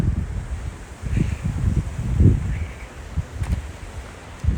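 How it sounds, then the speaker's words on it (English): Gusty wind buffets the microphone in uneven low rumbling bursts, with a faint rustle underneath, on a windy day in Barbados. "Sorry about the wind, by the way, it is windy today."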